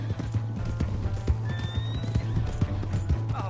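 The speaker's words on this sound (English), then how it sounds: "Hey, that's my horse!" A horse in Red Dead Redemption 2 gallops with loud, rapid hoof clip-clops throughout, while a high whinny rises over the steady hoofbeats midway.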